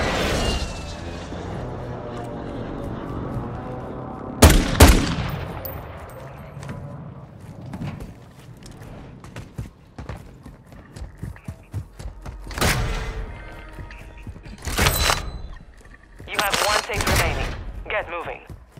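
SMG gunfire in the video game Call of Duty: Modern Warfare II, scattered loud shots and short bursts amid battle noise and clatter, with voices calling out now and then.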